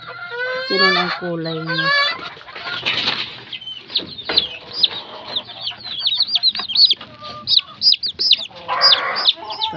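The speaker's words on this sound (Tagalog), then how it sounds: "Yan ang inahin." Fighting-breed chickens, including a mother hen, cluck in short repeated bursts, with a few louder squawks and some wing flapping. Someone speaks briefly over them at close range.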